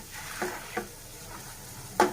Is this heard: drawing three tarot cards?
no